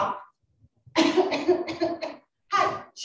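A burst of several harsh coughs in quick succession, close and loud, with a brief pause before a final cough.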